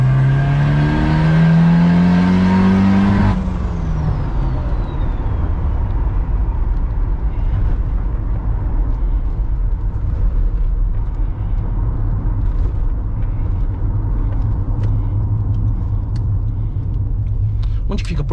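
A Ford Ranger pickup on sport tyres pulls away, its engine note rising briefly before settling into a steady low rumble of driving, with a continuous broadband road and cabin drone throughout.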